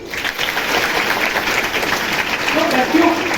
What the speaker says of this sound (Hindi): तो बजा लो ताली